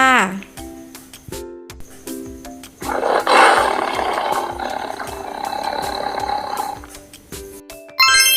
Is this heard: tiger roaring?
yes